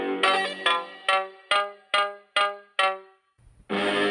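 A mobile phone rings during an outgoing call, with eight evenly spaced bright electronic tones, each decaying quickly, followed by a brief dip and then a sustained tone, loud and close.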